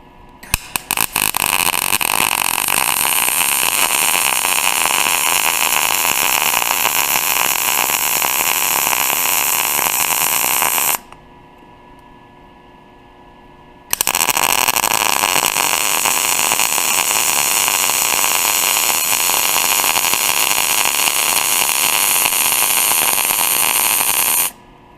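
MIG welding on a steel coupon, laying four beads: a loud continuous crackling, sizzling arc runs for about ten seconds, stops for a few seconds of near silence, then resumes for another ten seconds.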